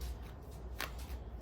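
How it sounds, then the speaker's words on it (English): Tarot cards are shuffled by hand in a quiet room, a soft riffling flutter with one sharper snap of cards midway, faint and close. "now I'm going to pull one of these moon cards"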